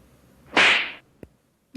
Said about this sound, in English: The whip.